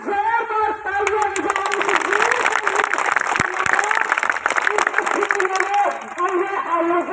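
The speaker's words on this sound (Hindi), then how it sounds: "एक बार जोरदार तालियां" Loud, steady applause from an audience at a patriotic program in Haryana, dense clapping filling the hall for several seconds with a speaker's voice and music tones running over it.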